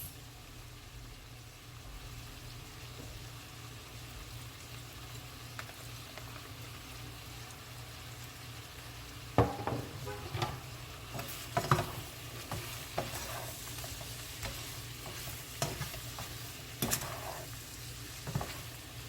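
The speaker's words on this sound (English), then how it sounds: "I'm gonna add some Cajun garlic sauce" Cajun shrimp and turkey sausage sizzling in a pan with Cajun garlic sauce, a steady frying hiss throughout with scattered stirring clatters and scrapes growing busier in the second half.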